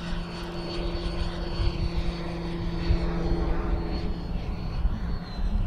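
An RC model L-39 jet on 6S LiPo power flies overhead as throttle is added, a continuous loud whooshing drone holding steady across the whole stretch with no talk.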